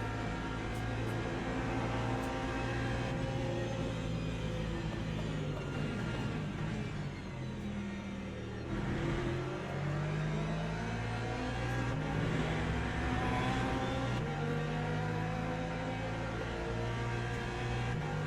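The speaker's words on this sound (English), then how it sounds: "Here comes the swarm of LMP2s anyway." LMP2 prototype race cars in a racing video game, engines droning loud and continuous with a swarm of cars passing close by, revving in overlapping waves throughout.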